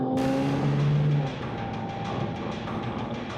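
A car pulls away from a roadside confrontation with a sharp burst of engine revving and a quick rise in tire and road roar, close and loud at first before settling into a steady drive-off.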